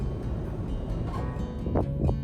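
Steady low rumbling wind in Idaho's Owyhee country buffets the microphone throughout, with a couple of brief higher gusts or rustles near the end.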